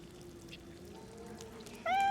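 A cat meowing in the video game Divinity Original Sin 2, a single clear meow that arrives near the end after a quiet stretch with faint background tones.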